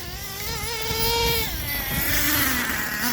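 A Traxxas Revo 3.3 nitro RC truck engine screams at high pitch, its buzzing whine rising and falling as the throttle is worked, loud and close with no talking.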